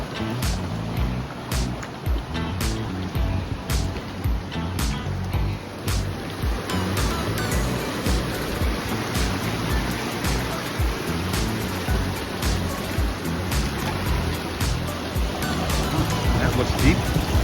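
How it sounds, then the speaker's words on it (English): Water rushing in a canyon stream along a hiking trail, a dense steady roar with splashy texture throughout, with faint tapping clicks over it. "you have to walk across the water to get from one side of the stream to the other"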